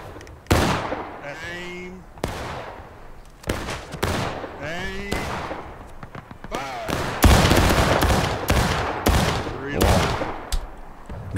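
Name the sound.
gunfire in the video game War of Rights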